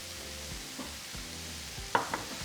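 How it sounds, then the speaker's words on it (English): Fajita vegetables and cilantro sizzling quietly in a pan for tacos de alambre, with a few soft stirring scrapes and one sharper clack of the utensil near the end. "Now just give it a good mix."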